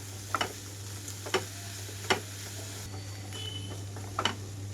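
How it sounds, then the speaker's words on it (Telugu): Broad bean (chikkudukaya) fry with coconut, garlic and dried red chilli being stirred in a pan as coriander goes in, with a steady low sizzle and a few sharp scraping stirs spaced through it. "ఇంకా చివరిగా నేను ఇందులోకి కొత్తిమీర వేసేసుకొని కలిపి స్టవ్ ఆఫ్ చేస్తున్నాను"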